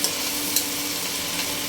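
Padma river shrimp with spices are stirred and sautéed in a pan, a steady, close sizzle with a couple of light clicks from the stirring.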